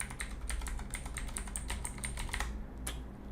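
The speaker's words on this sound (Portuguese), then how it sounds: "O teclado é barulhento." Rapid, uneven keystrokes on a noisy computer keyboard while entering R code, close and clear with short clicks throughout and a pause near the end.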